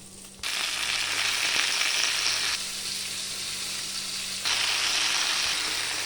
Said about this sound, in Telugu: అంటే ఇవి అన్ని దీంట్లో వేసి అలా ఫ్రై చేయాలి.